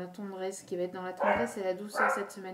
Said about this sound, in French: Excusez-moi pour mon chien